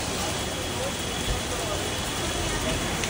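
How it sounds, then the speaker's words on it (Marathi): Heavy rain pours steadily outside a bank, an unbroken broadband hiss of falling water that stays even and loud throughout. "एवढा पाऊस आहे की मला वाटतं अर्धा तास झाला थांबतच नाही."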